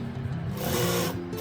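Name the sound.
sewing machine stitching blouse neck strip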